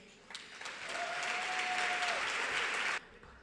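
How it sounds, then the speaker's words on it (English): Middle school gala audience applauding after a student's speech, a dense burst of clapping about three seconds long that starts abruptly and cuts off sharply, fairly faint overall. "Please, one more round of applause"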